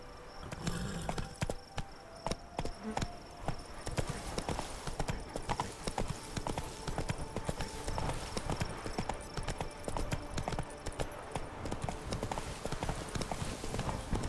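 Roach, the horse in The Witcher 3, gallops with a rapid, continuous run of hoofbeats, close and steady for the whole stretch, a voice briefly heard over it.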